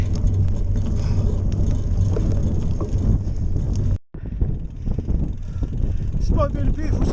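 Strong wind buffets the microphone at a hilltop on a sunny day during a bike ride, a loud, low roaring rumble that drops out briefly and returns, with some rattling mixed in.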